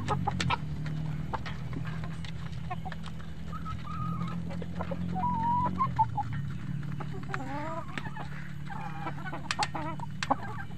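White leghorn hens and a rooster cluck close by, with scattered sharp calls and short warbling notes over a steady low background hum on a farm.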